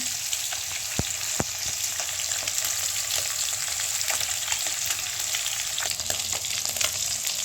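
Rohu fish pieces fry in hot oil with a steady, close crackling sizzle that runs unbroken, punctuated by a few sharp pops and light clicks of a utensil.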